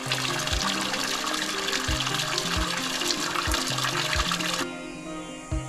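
Steady rushing stream water pours and gurgles continuously through a narrow gorge lined with trees and laterite rock, bright and splashy, accompanied by a soft rhythmic musical tone, before the flow drops away near the end.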